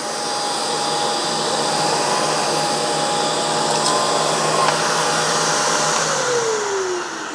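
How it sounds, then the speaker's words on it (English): A Vacmaster Respira bagless pet vacuum cleaner runs with a loud, steady whirring roar for several seconds, its pitch dropping as it powers down at the end. "So I'm just going to power that on, and I'm just going to show you here."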